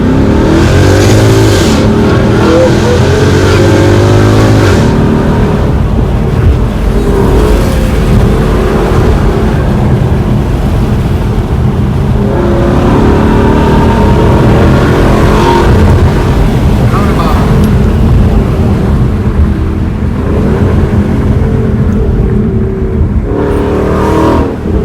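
A 2015 Nissan GTR R35 Black Edition and a 2015 Ford Mustang race, and a car engine roars loud and continuous from inside the cabin with the window open, with revs rising and falling and wind rushing throughout.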